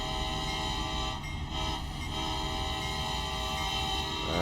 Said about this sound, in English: we can blow our horn on this one.